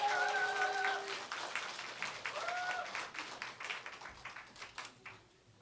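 A church congregation at a Sunday afternoon service claps to welcome a preacher, starting full and then thinning into scattered, individual claps that fade out, with faint voices mixed in.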